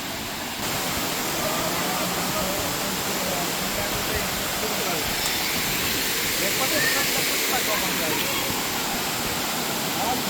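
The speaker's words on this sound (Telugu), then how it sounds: "ఒక చిన్న వాటర్ ఫాల్ లాగా ఉన్నట్టు కనిపిస్తుంది చూడండి." Small waterfall in the Anantagiri Hills near Hyderabad, a steady broadband rush of falling water that runs loud and unbroken throughout, with a faint voice in the background.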